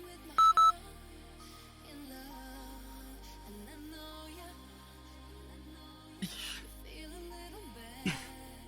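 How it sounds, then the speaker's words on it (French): Two short, loud workout-timer beeps close together near the start, then quiet background with a couple of faint clicks later. "Bip encore super fort"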